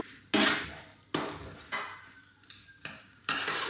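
A fork clacks repeatedly against a metal pot in separate strikes, each followed by a brief soft squish as boiled potatoes are mashed down.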